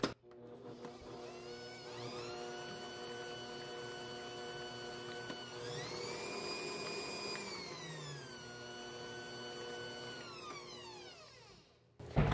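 A kitchen mixer whirs steadily through peanut butter cookie batter, its motor tone rising in pitch for a stretch midway and then settling back before cutting off at the end, close and alone with no talk.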